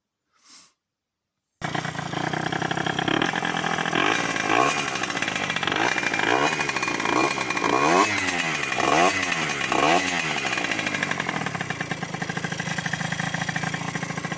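Derbi moped engine with a fuel supply fault and air leak, starting after a short silence, then running close and loud with a buzzing two-stroke drone as revs rise and fall in several surges.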